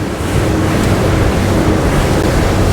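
A Schaefer V33 motor boat at 23 to 24 knots drives into waves, a loud continuous rush of water against the hull with engine rumble and wind buffeting the microphone.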